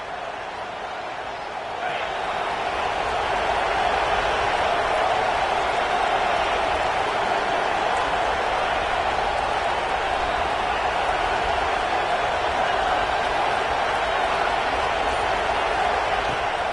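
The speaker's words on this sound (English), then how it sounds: "with this place rocking, the crowd forces a false start" Stadium crowd roaring in a college football video game, a dense sustained wall of cheering noise that swells after a couple of seconds and holds loud and unbroken throughout.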